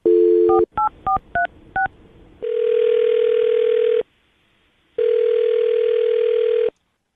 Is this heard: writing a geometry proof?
no